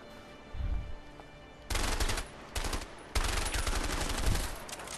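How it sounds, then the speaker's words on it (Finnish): Bursts of video game gunfire from A Way Out, loud rapid shots in several separate volleys with short gaps between them, close and alone without talk. "Oho, pakko ampu."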